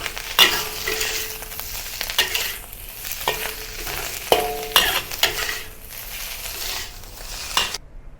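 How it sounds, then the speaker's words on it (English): Preserved mustard greens with ginger stir-fried in a wok: loud sizzling with repeated scraping and clanking of a spatula against metal, in bursts over several seconds, no talking. "continue stir frying"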